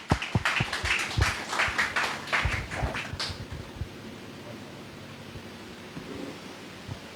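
A church congregation at a Sunday service claps loudly and densely to welcome a speaker to the stage, the applause thinning out and fading to quiet room tone halfway through.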